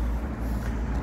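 Traffic on a noisy street with cars passing, a steady broadband roadway rumble and hiss, fairly loud, with no voices.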